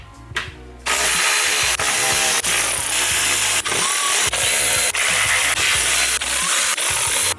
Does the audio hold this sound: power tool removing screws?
yes